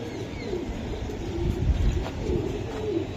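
A racing pigeon coos close by in low, rolling throbs that swell twice, with faint background noise and no speech.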